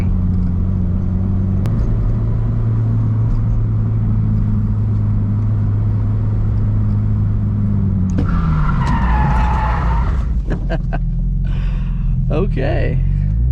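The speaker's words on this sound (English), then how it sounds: "I'm gonna try to do a handbrake reverse like turn thing." A Subaru BRZ idles with a steady low engine drone, then the revs rise and tires skid and squeal briefly during a handbrake turn, followed by rough scraping tire noise; a voice talks over it.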